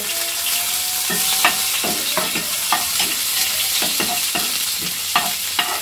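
Onions frying in hot oil sizzle steadily up close while a spoon stirs them, with light repeated scraping taps over the constant crackle and no talking.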